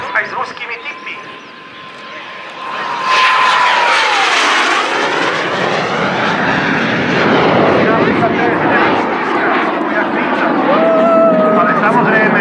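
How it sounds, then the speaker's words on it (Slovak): A Czechoslovak L-29 jet aircraft performs at an air show, its engine roar swelling loudly after a quieter start and holding as a sustained, shifting rush with whistling tones, while a voice speaks over it. "Toto lietadlo bolo porovnávané aj s ruskými typmi."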